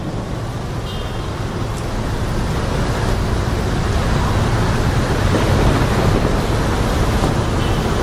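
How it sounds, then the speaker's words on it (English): Heavy tropical downpour in Ho Chi Minh City, Vietnam, a loud, dense, unbroken roar of rain pouring close by, with water spilling from faulty guttering. "A downpour here,"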